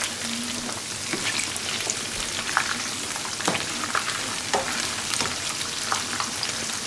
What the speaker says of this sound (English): go ahead and dip them in a beer batter, and go ahead and fry them up